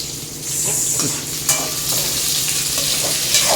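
Onions frying in a pan while being stirred, a loud close sizzle with repeated scraping of a spoon against the pan, with no talking.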